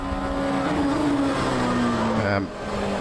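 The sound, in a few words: prototype race car engine in a racing video game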